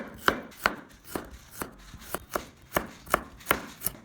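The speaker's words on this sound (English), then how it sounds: "Next, slice a little garlic." Knife slicing garlic on a cutting board: about a dozen crisp, evenly paced chops, close and distinct, with no talking.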